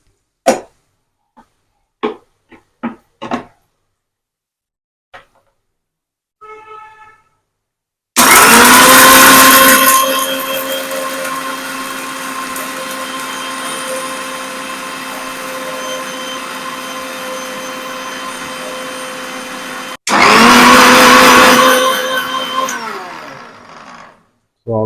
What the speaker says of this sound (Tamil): நம்ம வச்சிருக்க மசாலாவை அரைச்சிடலாம்